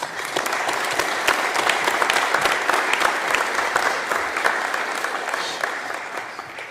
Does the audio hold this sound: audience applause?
yes